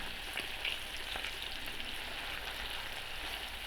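Breaded chicken liver chops sizzling in a frying pan, a steady close hiss and crackle with faint pops, constant in level throughout and no talking.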